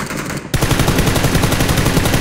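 Rapid automatic gunfire from the video game PUBG, a dense run of loud shots filling most of the clip after a brief quieter lead-in, with no talk over it.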